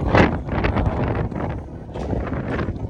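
Wind buffets the microphone on the upper deck of a cruise ship in the Bahamas, with loud, gusty rumbling bursts and an uneven roar throughout and no speech.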